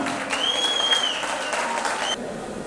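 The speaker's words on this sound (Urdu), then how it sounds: "میں اپنے دوسرے مقرر کو اسٹیج پہ مدعو کروں گا، جناب عامر رانا صاحب کو آپ کی بھرپور تالیوں میں۔" An audience at a professional lawyers' panel event applauds as a speaker is invited onto the stage, a steady wash of many hands clapping at moderate distance with a faint tone ringing through.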